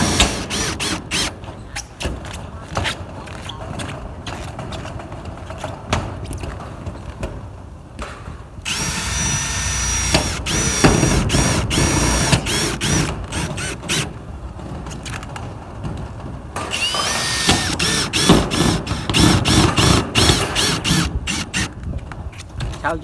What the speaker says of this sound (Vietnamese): chú thợ này bắn máy khoan là bắn nãy giờ là cũng rất là nhiều luôn đó hả?